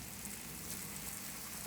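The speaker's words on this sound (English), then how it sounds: "Hear that sizzle?" Soft, steady sizzling of bacon frying on a hot Pit Boss pellet grill griddle, a continuous crackling hiss heard up close without talk.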